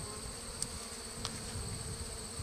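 Honey bees hum steadily around an opened Warre hive during a bare-handed inspection, a soft continuous drone with a couple of brief buzzes as single bees pass close.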